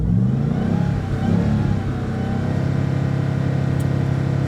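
A Ram TRX truck engine revs up to about 4,000 RPM on a dyno, a steady close mechanical drone that swells early, then holds a sustained high-revving tone with no talking.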